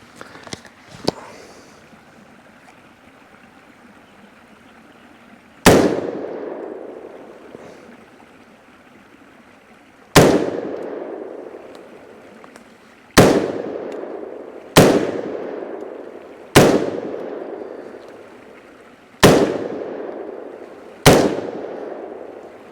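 Seven sharp single shots from a 5.56mm Sechin Arms MS-16 semi-automatic rifle fired outdoors, spaced several seconds apart with ringing decay, loud and alone after brief faint voices at the start.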